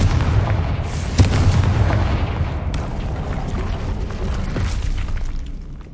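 The Confringo fire spell in Hogwarts Legacy goes off as a loud, rumbling blast with a sharp crack, then a sustained roaring boom that slowly fades, heavy and close.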